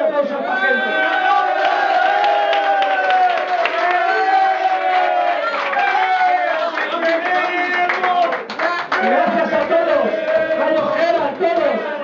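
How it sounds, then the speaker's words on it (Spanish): A large crowd applauds and cheers at a celebration of a football club's promotion to the Primera division, with loud, sustained clapping and chanting voices filling the scene without pause. "Que te dejo un gran aplauso a esta gente."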